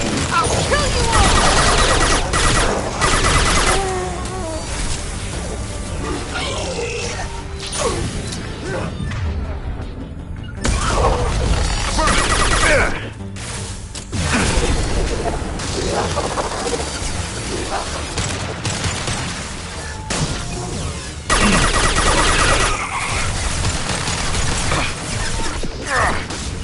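Heavy weapon fire in the sci-fi shooter game Mass Effect 2: dense, loud bursts of blasting and crashing impacts that run almost continuously, with brief lulls, mixed with game sounds and voices.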